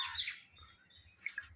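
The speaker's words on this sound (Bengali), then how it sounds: "এটা পায়রা।" An Ablook pigeon gives a few thin, high chirps, a short burst at the start and two quick sharp notes near the end, soft and close with quiet in between.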